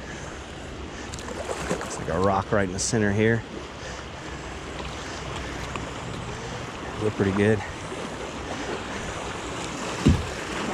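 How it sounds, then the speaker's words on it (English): Rushing white water churns steadily around a kayak on river rapids, with someone speaking briefly over the constant roar. "Got some rapids here. Nothing too dangerous though, just a little bit of white water on the edges."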